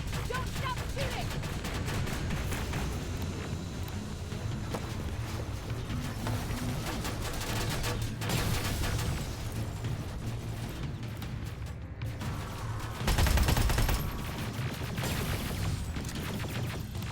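Gunfire fills a Terminator video game battle set in a moonlit future war, dense continuous bursts with heavier blasts near the middle and later, under brief shouted voices.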